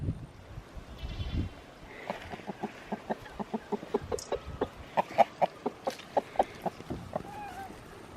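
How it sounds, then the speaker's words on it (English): Rapid, rhythmic clucking from a chicken, a long series of short, close pulses, preceded by some shuffling and a brief animal call. "Chicken."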